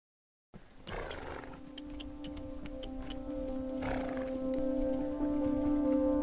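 A horse gives a long, drawn-out whinny that swells in loudness, with scattered hoof clops tapping underneath, at an equine-assisted therapy program.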